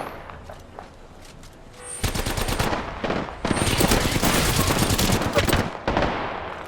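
Rapid automatic gunfire in the video game Apex Legends, loud bursts of fast shots beginning partway through and continuing in long strings with brief gaps, close and dense.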